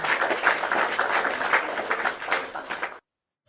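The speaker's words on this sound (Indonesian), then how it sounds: "Gue boleh tepuk tangan buat diri gue sendiri?" A short burst of dense hand clapping lasts about three seconds, fairly steady and close, then cuts off abruptly into silence.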